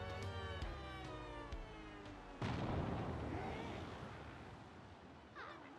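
A deep cannon boom from a naval battle in Paper Mario: The Thousand-Year Door, a single heavy blast that rolls out into a long rumbling decay over game music.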